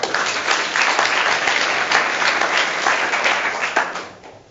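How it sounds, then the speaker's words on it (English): Applause from an audience after a startup pitch presentation in a risk, intelligence and security category at an EU event, a dense, loud wash of clapping that holds steady, then tapers off near the end. "a round of applause, please."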